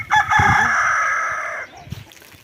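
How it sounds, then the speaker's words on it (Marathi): A rooster crows at sunrise in a rural Maharashtra village, one long, loud, close call held for more than a second, with soft clucking from other fowl before and after. "कोंबड्यांचे आरवणेही चालू झाले."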